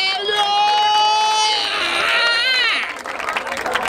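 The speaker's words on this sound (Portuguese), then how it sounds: "Palmas pra essa batalha!" Crowd at a Brazilian street rap battle, the Batalha da Aldeia in Barueri, São Paulo, cheering and clapping loudly with shrill whoops and whistles over a steady roar of noise.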